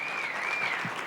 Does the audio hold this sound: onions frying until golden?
no